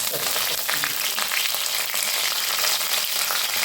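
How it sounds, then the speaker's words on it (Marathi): Mustard seeds crackle and splutter in hot ghee and oil, a dense steady sizzle with quick popping bursts throughout. "राई तडतडले"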